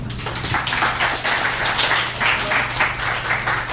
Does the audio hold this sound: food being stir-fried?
no